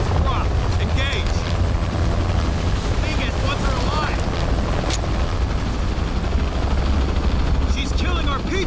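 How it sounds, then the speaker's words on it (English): Heavy thudding rotor and engine roar of a helicopter in the game Shadow of the Tomb Raider, loud and constant in stormy weather, with voices shouting over the din. "Always hated helicopters."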